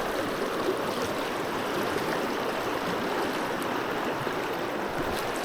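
Fast water rushes through a river run in New Zealand, a steady, dense roar of flowing current heard close by with no pauses and no voices.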